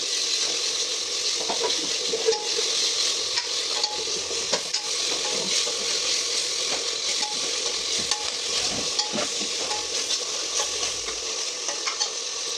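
Spices fry and sizzle in a pan for egg biryani, a constant hiss broken by repeated stirring scrapes and light clinks of a utensil against the metal, with no talk.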